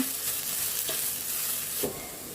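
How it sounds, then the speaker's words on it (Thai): Shiitake mushrooms and shallots stir-fried together in a pan, a steady hissing sizzle with a few soft spatula strokes, close and fairly loud, with no one talking. "เอาเห็ดหอมลงผัดต่อ ผัดด้วยกันค่ะให้หอมเลยนะคะ"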